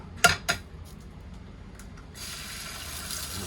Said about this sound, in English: I'm gonna start cracking some eggs